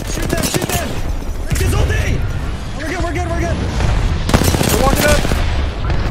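Sustained automatic gunfire and hit sounds from an Apex Legends pro league match crackle throughout at close range, mixed under loud, urgent shouting from players.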